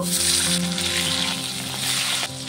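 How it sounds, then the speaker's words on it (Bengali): Khoira fish coated with salt and turmeric fries in hot oil in a kadai, giving a loud, close, continuous sizzle that softens slightly near the end, with no talking. "আমি আগে থেকে মাছে নুন হলুদ মাখিয়ে রেখেছিলাম, এখন ভেজে নেব"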